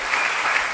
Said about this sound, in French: Acclamons très fort pour la parole de Dieu.